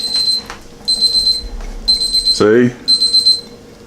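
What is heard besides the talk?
kitchen timer ringing while boiling eggs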